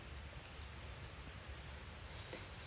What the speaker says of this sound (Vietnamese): Trời đang mưa các bạn thông cảm nha.